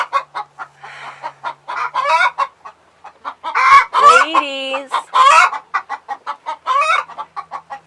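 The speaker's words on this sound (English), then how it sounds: "excuse all the chicken noises." Chickens and a rooster on a homestead, loud and close, with repeated sharp clucks in quick bursts and a strained crow in the middle, plus a brief spoken word.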